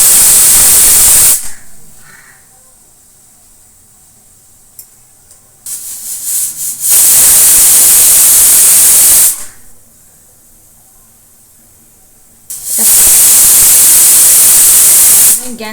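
Pressure cooker on a gas stove cooking Odia khichdi, giving loud shrill steam whistles in three bursts of a few seconds each, separated by quiet gaps with faint kitchen noise.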